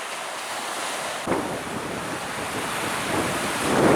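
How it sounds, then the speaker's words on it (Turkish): Strong wind buffets the microphone on the Aegean coast near Datça, and surf breaks steadily in a broad, roaring hiss that swells toward the end, with no talk. "kuvvetli bir rüzgar var. Bayağı bir kuvvetli."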